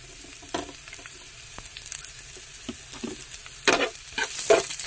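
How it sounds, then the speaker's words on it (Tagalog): Garlic and onion sautéing in a little oil for kare kare, a soft steady sizzle up close, broken by spoon scrapes and bursts of louder crackling near the end. "Ilagay na natin yung bawang at saka sibuyas."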